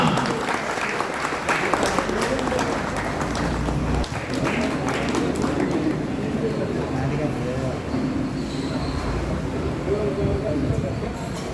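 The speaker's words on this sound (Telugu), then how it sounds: "చప్పట్లు గట్టిగా" Dense, sustained clapping fills a hall at a road safety award ceremony honouring the best bus drivers, loud and unbroken from start to finish, with voices mixed in at moments.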